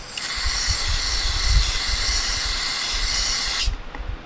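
Contact cleaner sprays from an aerosol can onto the sticky clutch of a Honda CA160 motorcycle, a loud, steady close-up hiss lasting a few seconds before cutting off.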